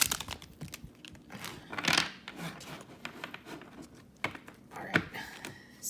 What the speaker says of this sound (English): So easy to shuffle, not easy to bridge